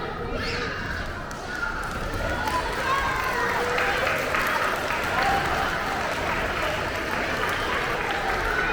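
Steady applause from a school assembly audience for young students, a dense, continuous clapping wash filling the whole stretch at even loudness.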